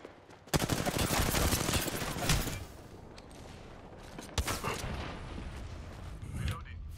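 Gunfire rattles through an Apex Legends match, with a long loud automatic burst, quieter scattered shots, then another sharp volley, and a player talks over it.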